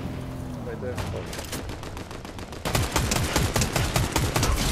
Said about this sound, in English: They sound like they're just shooting each other slowly